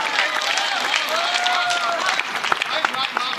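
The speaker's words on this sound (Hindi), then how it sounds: "इनके लिए जोरदार तालियां बजा दी" Hall audience clapping enthusiastically at a studio event, a dense wash of hands heard at a distance, with crowd voices and a sustained tone over it.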